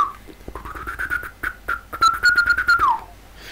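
A beatbox whistle technique shown by a performer in a lesson: a clear sustained whistled tone that wavers in pitch, with short breathy bursts before it and a final downward glide, close and fairly loud.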